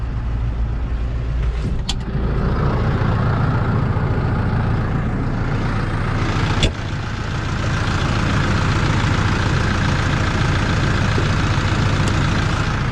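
A TR6 tractor engine idles while warming up after a wheat harvest, giving a steady, close, continuous low rumble with little change and one brief knock partway through; no one speaks.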